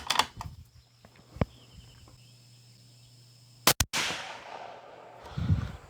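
A rifle chambered in .264 Winchester Magnum fires at a range, giving a sharp, loud crack followed by a long fading rumble, with smaller clicks and handling knocks before it and no talking.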